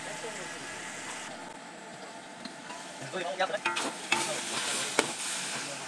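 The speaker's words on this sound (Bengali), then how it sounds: "এখন আমি বট এখানে ঢেলে দেব। ঢেলে দিয়ে তারপর সুন্দর করে ভাজি করব।" Beef tripe fried with onion, garlic and spices in a pan gives a steady sizzle broken by scraping stirring strokes and clinks of the utensil, close and moderately loud.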